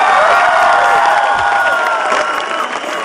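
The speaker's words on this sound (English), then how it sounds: "Her parents are in the house tonight, so give them a round of applause." Concert crowd cheering and applauding between songs, a loud wash of clapping, shouts and whoops filling the room, tapering slightly toward the end.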